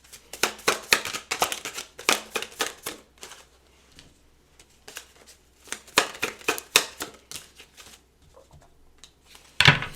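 Tarot cards being shuffled by hand in quick crisp riffling bursts, with flicking slaps and short pauses between rounds, close and clear with no talk.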